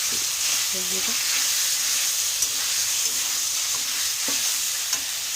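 Ginger and cumin paste frying in hot oil in a pan, a steady close sizzle with light scraping stirs and occasional spoon taps, under a low background hiss.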